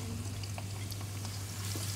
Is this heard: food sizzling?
yes